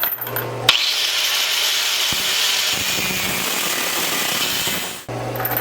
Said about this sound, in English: We'll take the 4-inch grinder and slot that down to them holes.